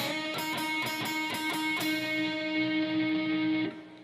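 Electric guitar plays the first part of the song's intro at full speed, a run of quick, evenly spaced picked notes ending on a held ringing note that fades, with no talking.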